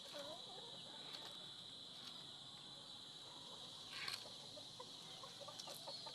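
A tethered hen is checked for eggs in her coop late in the afternoon. She clucks in brief, faint bursts against a steady high whine of insects, and no voices are heard.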